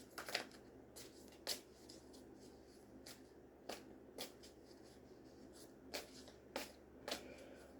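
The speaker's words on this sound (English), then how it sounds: "So let's shuffle." A Cat Tarot card deck is shuffled by hand in a quiet room, producing soft, close riffling bursts repeated about a dozen times at irregular intervals, with no voice.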